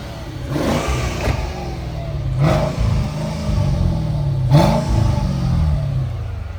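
A 2003 Mercedes-Benz SL500 V8 revs repeatedly at idle, the engine note climbing and falling in three distinct throttle blips over a steady rumble, close and loud.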